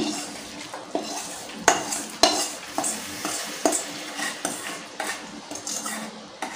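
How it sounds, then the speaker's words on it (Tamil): Hot tempering sizzles briefly as it hits a pot of sambar, followed by a spoon stirring and clinking against metal in steady strokes. "இப்போ தாளிச்சதை சாம்பாரில் சேர்த்துக்கோங்க."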